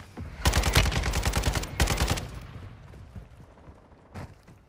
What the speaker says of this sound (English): I just mortared it